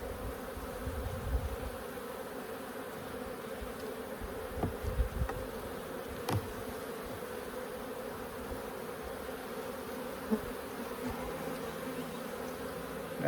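Honeybees buzz steadily around an open hive during an inspection at the Holts Summit bee yard, a faint continuous drone with a few brief knocks and clicks from handling.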